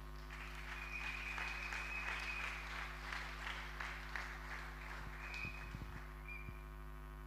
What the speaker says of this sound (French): Nous pouvons nous asseoir et acclamer la parole.